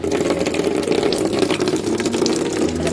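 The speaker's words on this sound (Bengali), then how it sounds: "কটা বেগুন ধুয়ে দেবো ভালো করে" Tap water runs steadily into a basin for washing eggplants in a home kitchen, a continuous close gushing stream with no voices.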